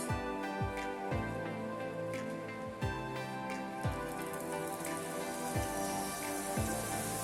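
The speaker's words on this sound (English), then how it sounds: "Now we'll fry our nachos." Roti nachos fry in hot oil, giving a dense, even bubbling hiss with a few soft spattering ticks, steady and close throughout with no voices.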